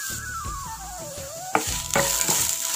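Ingredients for kadala koottu curry being stirred and sautéed in oil in a pan, with a steady low sizzle, scraping strokes and a few sharper clanks of the spoon against the vessel, no voices.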